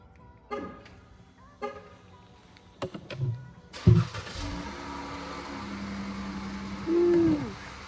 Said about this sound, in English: I'm gonna go ahead and give y'all a cold start